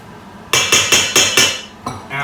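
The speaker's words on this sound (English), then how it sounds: "Right, we're going to toss all this together." Pasta is tossed together with red pesto in a metal pan or bowl, giving five quick, evenly spaced loud metallic clanks, then a couple of softer knocks.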